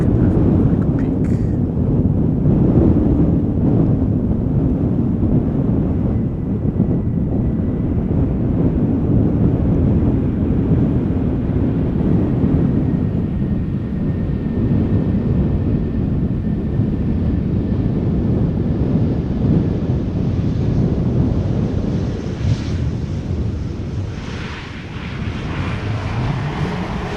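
A large jet airliner spools up its engines at Schiphol Airport, a deep continuous roar with wind buffeting the microphone, steady and loud from a distance before easing slightly near the end.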